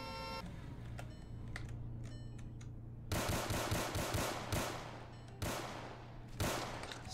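Gunfire in the Roblox game Greenville during a sheriff patrol chase, with rapid bursts of automatic shots cracking in short volleys, loud and close, over a steady background engine hum.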